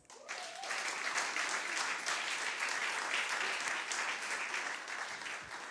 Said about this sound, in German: Wir geben dir einen Applaus.